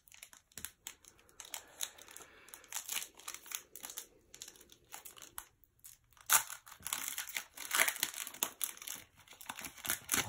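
Foil wrappers of 2019 Donruss trading card packs are torn open and crinkled close by, in bursts of crackling and rustling with short quiet gaps.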